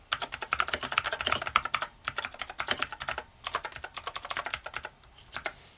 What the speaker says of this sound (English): we now have a very, very nice keyboard, modern keyboard with Cherry MX switches